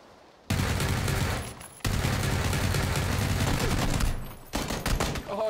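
Bursts of gunfire in PlayerUnknown's Battlegrounds, a dense, sustained volley of rapid shots lasting several seconds with brief pauses, loud and close, with some faint speech in the mix.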